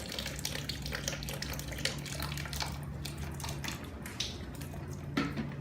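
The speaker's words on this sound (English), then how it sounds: "The water comes out from this hole. It means the water tank is full." Water pours and splashes steadily from the overflow hole of a full cryolipolysis machine water tank, a continuous nearby trickle with a faint mechanical hum underneath.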